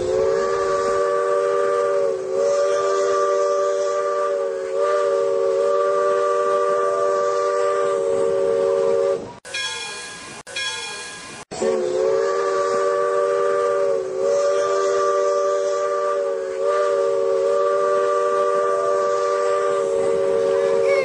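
A steam train runs with a loud, sustained whistle blowing nearly continuously, broken by a brief pause midway, steady rumbling underneath and no talk.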